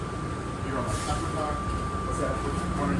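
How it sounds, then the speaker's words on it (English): Steady rumbling hum of the Atlanta airport Plane Train people mover underway, with a constant tonal whine over the rolling noise; continuous and fairly loud. "Please hold on. This train is departing."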